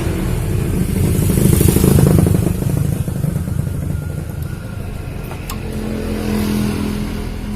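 A Yamaha Lexi scooter with a hesitating, hard-starting engine runs loud and close, a steady rough motor drone with clattery texture that swells slightly and settles.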